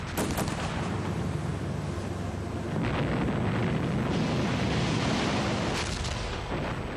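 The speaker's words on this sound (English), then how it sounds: "German artillery and machine guns opened fire" German artillery and machine-gun fire in World War II, opening up on assault troops landing on a shore: a continuous, dense roar of gunfire and blasts, with sharper bursts near the start and around three and six seconds, loud throughout.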